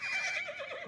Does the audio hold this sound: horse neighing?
yes